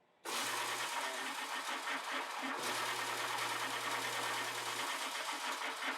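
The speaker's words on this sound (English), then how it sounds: "this is the drill press conversion kit disc sander that I designed" A disc sander built from a drill press conversion kit starts at once and runs steadily, a loud continuous motor whir with a low hum that stays even to the end.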